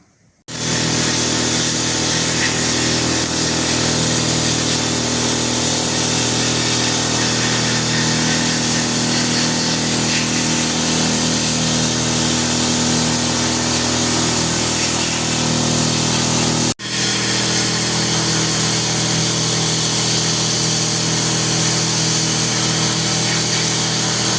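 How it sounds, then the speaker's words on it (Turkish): Sandblasting a part of a Sarsılmaz Kılıç 2000 Light pistol, a loud, steady roaring hiss of abrasive blast that runs nonstop for over twenty seconds with one brief dip, no voices. "Şimdi geçelim kumlama işlemine."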